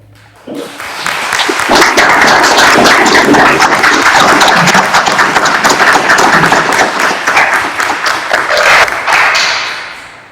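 Sustained, loud applause from a seated crowd at a swearing-in ceremony for new lawyers before the Supreme Court, building quickly after a moment of quiet and holding steady for about nine seconds before tapering off.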